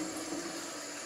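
A kitchen tap runs steadily while dishes are washed after a Friday night meal, giving a continuous close hiss of flowing water with no talk over it.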